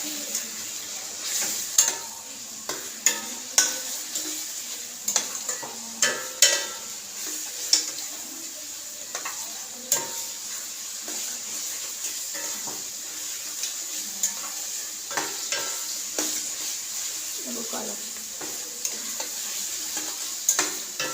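Spices with chili powder stir-fry in a pan, giving a steady close sizzle broken by frequent sharp scrapes and clicks of a spoon against the metal, with no voices.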